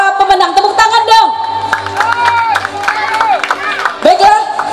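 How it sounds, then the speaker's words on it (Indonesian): Applause and cheering from a children's audience at a school arts show closing, with children's shouts and whoops over lively clapping, close and loud throughout, with voices mixed in. "Tepuk tangan dong."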